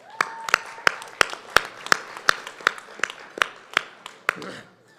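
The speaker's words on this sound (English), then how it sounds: "let's give ourselves another round of applause" Applause from an audience at an educators' and elders' gathering: about fourteen sharp, evenly spaced claps ring out loud and near over a low crowd murmur, slowing and fading at the end.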